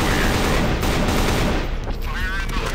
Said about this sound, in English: Somehow it's really loud for this AK sound.